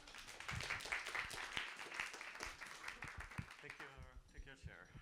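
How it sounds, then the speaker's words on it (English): A debate audience at the Woche der Kritik 2025 film event claps warmly, dense applause that swells then thins near the end, with a voice speaking over it. "A warm applause for Narges Kalhor."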